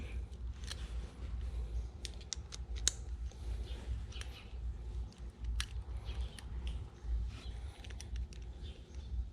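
Short metallic clicks and small ticking sounds come from a wrench tightening an 8 mm nut on a Puig brake or clutch lever fitted to a Scrambler Ducati. They repeat irregularly and close by over a low background hum.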